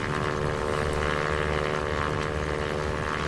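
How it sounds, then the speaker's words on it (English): A propeller airplane banking through a turn, its engine a steady, unbroken drone with a constant buzzing hum that holds level throughout. "when you bank the airplane, the lift that's produced by the wings is still being used to lift the airplane"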